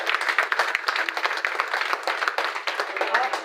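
Dense, continuous clapping from an audience at a Sheikh community award ceremony in Jhelum. It is loud and steady throughout, with many hands overlapping and no pauses.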